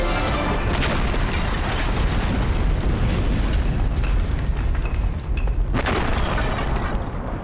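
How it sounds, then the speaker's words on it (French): A loud, sustained explosion rumbles in a dramatic scene, broad roaring noise with debris crackle filling the full stretch, dipping briefly near the end before surging again. "une explosion."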